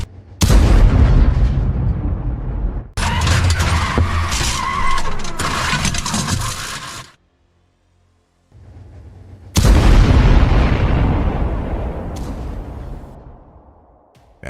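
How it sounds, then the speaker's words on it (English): A Ukrainian T-64 tank fires on and destroys an abandoned BTR armored vehicle, giving heavy, loud blasts and roaring bursts that each last several seconds, separated by a brief near-silent gap. "After a direct hit from Ukrainian T-64, the BTR gets torn to pieces."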